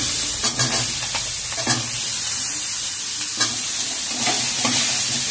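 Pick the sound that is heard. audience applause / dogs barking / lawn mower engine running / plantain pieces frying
plantain pieces frying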